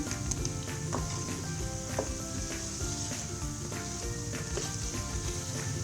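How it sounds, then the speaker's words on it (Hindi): Pakoras frying in hot oil, a continuous bubbling sizzle with scattered small pops and crackles, close and steady with no talking. "बस ये फ्राई हो चुके हैं।"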